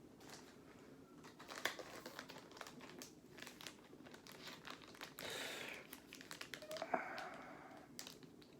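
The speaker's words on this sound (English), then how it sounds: "These plastic baggies are just the exact right size." Plastic baggies crinkle and rustle up close while Pokemon booster packs are opened, in a quiet string of soft crackles with a few sharper handling taps and no talking.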